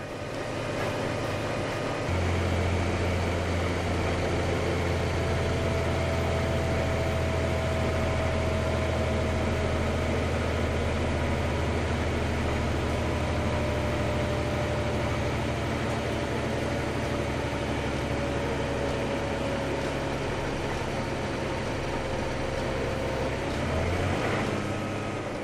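A John Deere tractor engine runs at a steady 1000 rpm during a dyno power measurement, a loud continuous drone with a low rumble and a constant mechanical hum, holding even throughout before a brief shift near the end.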